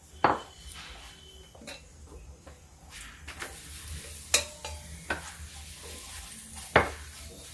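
A paratha fries in oil on a hot tawa over a fairly high gas flame, with a soft sizzle beneath frequent clinks and scrapes of a utensil against the pan, some sharp and loud, with no talk.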